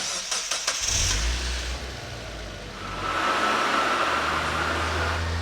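A Mazda Miata spec race car engine cranks and catches, then settles into a steady, loud idle that swells as it revs slightly, heard up close with no talk.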